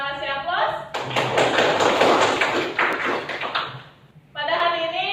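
A classroom of students claps in a dense, sustained round of applause that stops abruptly, framed by a teacher speaking before and after.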